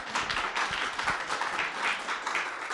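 An audience at a small gathering claps together in steady, dense applause that holds for a few seconds at moderate distance, with no words over it.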